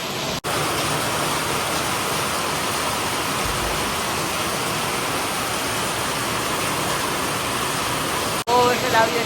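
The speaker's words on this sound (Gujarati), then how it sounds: "અમારે બહુ આજે વરસાદ આવ્યો છે," Heavy monsoon rain pours down outdoors in Gujarat, a dense, steady hiss that stays loud and unbroken for the whole stretch.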